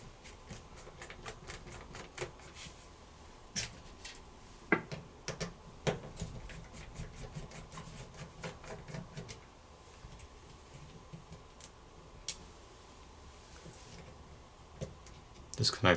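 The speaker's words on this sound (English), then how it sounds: "Let's go ahead and remove those screws." Phillips screws being unscrewed during a Samsung Galaxy A71 phone teardown: faint, close, irregular tiny ticks and clicks of a small screwdriver, with occasional sharper taps against a quiet background.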